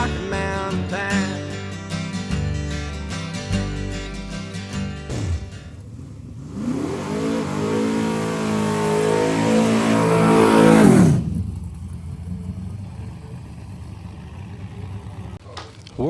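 The John Herring-owned 50 Shades of Brown Mustang race car, driven by Jimmy Dale, revs and roars loudly on the racetrack for several seconds with a rising then falling engine pitch, following a stretch of music.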